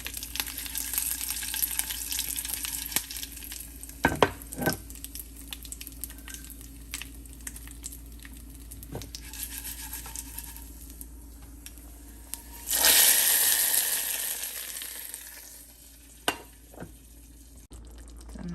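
Mustard seeds, dried chillies and curry leaves sizzle in hot oil for a chayote gravy tempering. A close, crackly fry carries sharp pops, then a loud burst of spluttering that slowly eases off.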